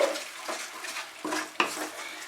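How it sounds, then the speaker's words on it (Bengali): Sour yogurt being stirred into a spice mixture in a pan over very low heat, a spoon scraping and clinking against the metal in several distinct strokes, close and moderately loud with no talk. "মশলার সঙ্গে টক দইটা ভালো করে মিশিয়ে নিতে হবে"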